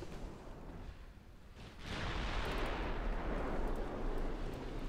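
A torpedo salvo fired from a warship in Ultimate Admiral: Dreadnoughts: a quiet rumble gives way to a sudden, sustained broadband rushing whoosh that holds loud and steady, with faint clanks above it.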